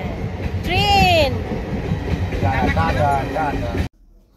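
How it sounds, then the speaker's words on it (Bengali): A train passes close by, a loud rumbling roll with a tonal horn-like sweep, while people talk nearby; the sound cuts off abruptly near the end. "হ্যাঁ, ট্রেন।"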